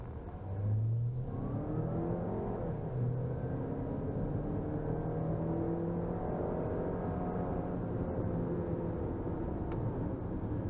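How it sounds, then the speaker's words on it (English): A Chinese SUV in sport mode accelerates hard, its engine revving up through rising, gear-held pitches and a steady roar inside the cabin, with no talking. "we're going to stick this in sport mode and we're going to put a foot down and see how it goes"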